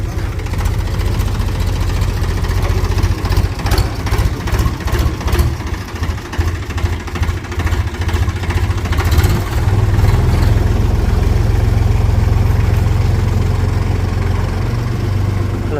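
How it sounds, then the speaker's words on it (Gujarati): A tractor engine chugs loudly and continuously at close range in a village, a heavy low throb with rhythmic knocking that shifts slightly as it pulls away. "હાલો ભાઈ ટ્રેક્ટર છે ને લઈ ગયા"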